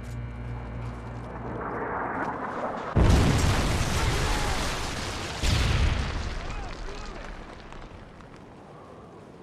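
In a Call of Duty game, a Predator missile strike hits with two heavy, close blasts a couple of seconds apart, each a sudden roaring burst that slowly rumbles away after a rising whoosh of approach.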